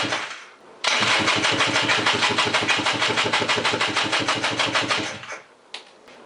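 Scrambler 400 motorcycle engine with a makeshift welded exhaust fires up and runs rough and loud with a rapid, choppy pulse for several seconds before sputtering and dying.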